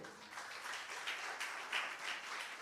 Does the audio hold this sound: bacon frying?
no